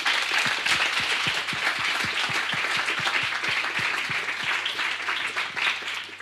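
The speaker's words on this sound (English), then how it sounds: "I believe that deserves a big round of applause." An audience at the futurEU 2023 competition finals in a hosting forum hall claps warmly, a sustained wash of many hands with a few sharp nearby claps standing out and a low steady hum beneath.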